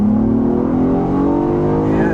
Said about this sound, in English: give it a little rolling acceleration here